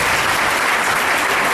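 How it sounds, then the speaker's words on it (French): Loud, dense audience applause fills the whole moment with steady clapping from a crowd gathered at a religious prophecy service, close and continuous with no talk over it. "Oh, applaudissez d'abord."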